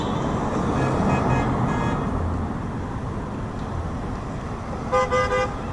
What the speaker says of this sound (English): Like 9 honks at once.